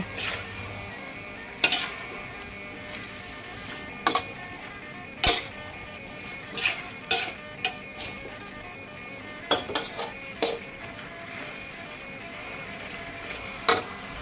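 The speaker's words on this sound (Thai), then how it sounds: "ผัดไปผัดมาสักแป๊บหนึ่ง ให้พริกชี้ฟ้าเขียวแดงและหอมหัวใหญ่" Stir-frying green and red chilies and onion with chicken in a pan: a steady sizzle under repeated sharp metal scrapes and clanks of a spatula, irregular and close.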